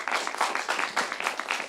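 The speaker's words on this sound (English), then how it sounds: "maybe we can clap for the candidates." Members of the Law Society of Kenya applaud the candidates after a debate, a steady patter of many hands clapping at moderate volume in an indoor hall.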